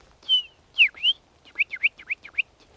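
A Cetti's warbler sings outdoors on a coastal point in Vannes: a loud, close burst of sharp whistled notes, opening with a few separate calls and then a quick run of repeated phrases, with no voices.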